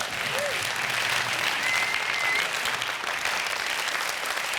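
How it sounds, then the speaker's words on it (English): Loud, sustained applause from the audience at a science and innovation award ceremony in Amsterdam after startup pitches, a continuous dense roar of clapping at even level with no gaps. "May I hear a very loud applause for all our pitches?"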